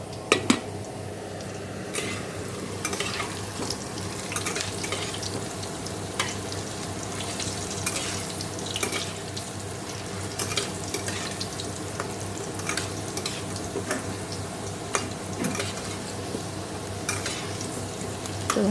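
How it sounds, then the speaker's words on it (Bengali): Meat and potatoes sizzling and frying with cumin, dried red chillies and spices in a pan, a steady close hiss with occasional clinks and scrapes of a stirring spoon against the pan. "মাংসটা দিয়ে ভালো করে কষিয়ে নিচ্ছি"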